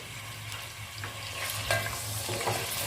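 Beef fries in a pan with garlic and ginger paste, a steady sizzle and hiss under a low hum, with stirring scrapes and clinks that grow a little louder toward the end.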